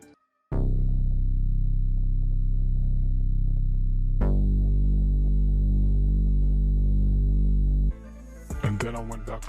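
A heavy sustained 808-style bass from the Legacy drum kit's bass number 5 in FL Studio, laid down as two long, loud, booming low notes, followed by a burst of brighter percussive electronic hits at the end, with no talk.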